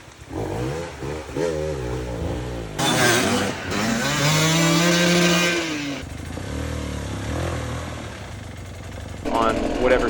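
A hard enduro motorcycle's engine revs hard as its rear tire spins on slippery rock, a loud rising and falling buzz with a strained peak in the middle, while a person talks over it.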